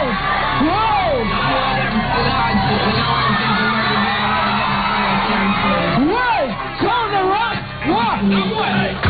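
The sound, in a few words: crowd cheering for Cynthia Morgan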